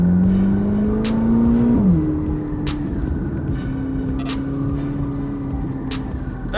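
A 1064-horsepower Chevrolet Corvette C8 ZR1 exhaust roars hard under acceleration on a downtown Chicago street, the engine note climbing and then dropping at a shift, staying loud and close throughout.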